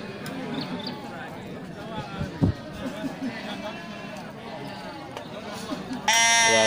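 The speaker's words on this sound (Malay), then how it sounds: "Ya, satu ekor domba jantan juga nih." Ram sheep at a goat market, with scattered bleats among general crowd noise and nearby voices talking, plus a louder buzzing tone near the end.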